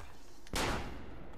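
A single sharp gunshot from Assassin's Creed Brotherhood cracks out loud and close against a low steady background, its burst decaying over the following second.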